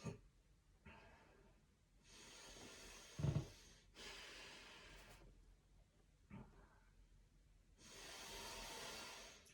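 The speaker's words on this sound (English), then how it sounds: "Deep breaths." Slow, deep breathing during a yoga session, with long drawn-out inhales and exhales, plus a brief sharper exhale midway, soft and close with no talking.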